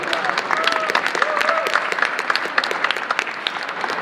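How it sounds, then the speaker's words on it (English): Steady crowd applause at a YMCA speaking event in Kosovo, many hands clapping continuously at even loudness, with faint voices mixed underneath. "It's a round of applause, everyone."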